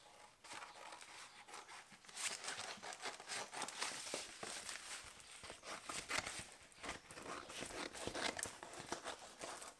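Imitation carbon fibre vinyl wrap being roughly cut for motorbike panniers, giving soft continuous crinkling and snipping rustle, close but faint and steady throughout, with no speech.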